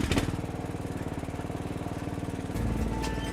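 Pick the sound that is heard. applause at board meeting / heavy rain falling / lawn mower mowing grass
lawn mower mowing grass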